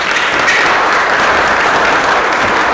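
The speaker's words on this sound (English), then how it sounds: "Let's give those guys and girls a round of applause." Loud, dense applause from an audience at a chamber of commerce candidate forum, honoring the chamber board with continuous clapping throughout.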